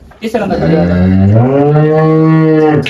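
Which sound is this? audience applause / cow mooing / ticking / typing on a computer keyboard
cow mooing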